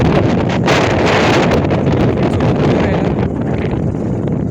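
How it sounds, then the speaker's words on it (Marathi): Strong, cool wind blasts across an open hilltop, a loud continuous roaring buffet on the microphone that holds steady throughout and eases slightly near the end. "वारा लय भारी गारगार चालू आहे."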